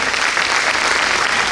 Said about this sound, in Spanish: Quiero traer aquí, primero, un aplauso de homenaje por Sandra y Rubén